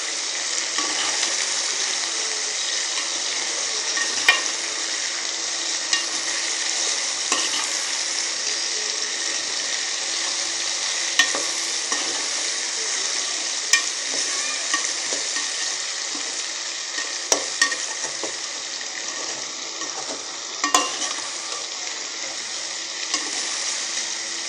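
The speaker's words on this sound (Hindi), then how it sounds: "अच्छी तरह से भून लें।" Sliced potatoes sizzle and fry steadily in a pan for aloo katliyan, with occasional spoon scrapes and clicks as they are stirred; the frying hiss is constant and fairly close, with no talking.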